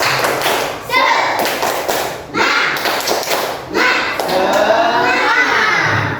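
A class of children performs rhythmic spirit clapping during an Islamic education lesson on ablution, sharp patterned claps and thumps in bursts mixed with loud chanting and shouting voices, close and energetic.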